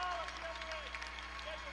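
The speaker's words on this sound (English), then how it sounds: "With a huge round of applause from the Scotiabank faithful." Crowd applause from the home fans at a Halifax Hurricanes versus Moncton Magic NBL Canada basketball game, rising as a player walks off the court; steady clapping and crowd noise runs throughout under an announcer's voice.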